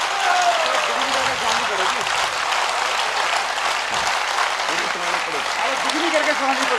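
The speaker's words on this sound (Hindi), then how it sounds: "इतनी तालियां बज गई" Loud, sustained audience applause following a Hindi poetry recitation at a live kavi sammelan, dense clapping throughout with voices mixed in.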